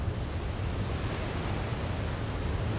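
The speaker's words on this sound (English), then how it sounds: "When they finally break, the waves can rise 70 feet, propelled at more than 40 miles an hour." Large ocean waves break on Maui's north shore at Pe'ahi, giving a loud, steady wash of surf with a deep low rumble that holds for the whole stretch, with no voices.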